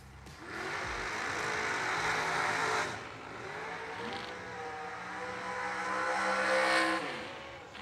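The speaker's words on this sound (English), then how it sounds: "Get ready to complete the burnouts." A race car does a burnout at a Twin Fifties motorsport event in light, persistent mist. The engine revs loudly and swells twice with rising pitch, mixed with rough tyre noise.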